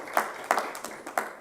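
A conference audience gives a short round of applause, heard as four distinct loud bursts of clapping in quick succession, each swelling and fading within about a second and a half.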